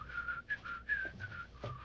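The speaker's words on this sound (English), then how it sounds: "and then you whistle." A person whistles a short, wavering tune in several quick phrases, close by with a faint low rumble beneath.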